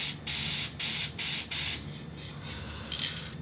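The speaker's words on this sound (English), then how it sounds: "make sure you spray some out first. Get it flowing." An aerosol can of trim restorer sprays in four loud, close hissing bursts of roughly half a second each, followed by quieter, shorter sputtering puffs.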